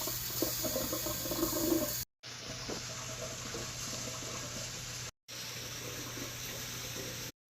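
Warm water streams steadily from a kitchen tap nearby, a continuous rushing flow broken by two brief gaps.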